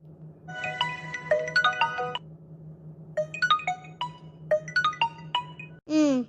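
A mobile phone rings with an incoming call, its bright melodic ringtone playing in repeated bursts with short pauses, fairly close and clear over a steady low hum, ending in a brief warbling tone.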